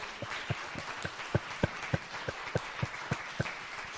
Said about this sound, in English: I would like to have a round of applause for our panelists